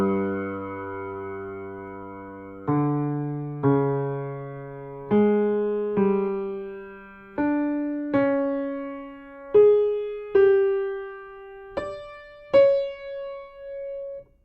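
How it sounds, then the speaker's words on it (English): Orchestral passage from Holst's The Planets playing the falling semitone theme: a sequence of sustained, accented orchestral chords, each entry stepping to a new pitch, ringing clearly with no talking. "the first of Holst's semitone-generated themes features a series of falling semitones, each one higher than the last"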